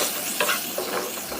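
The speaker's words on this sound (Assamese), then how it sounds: "নিমখ আৰু হালধি দিয়াৰ পিছত 1 মিনিট সময় লৰাই ভাজি ল'ম" Raw papaya and red lentil curry seasoned with salt and turmeric being stir-fried, giving a close, steady hissing sizzle with a few soft scrapes of stirring over about a second and a half.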